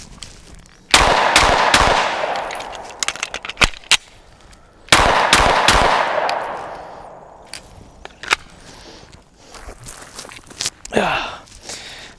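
Loud, close pistol shots from a Shadow Systems MR920 Glock-style handgun ring out in sharp clusters with ringing decay, followed by quieter handling clatter and footsteps as the magazine is swapped.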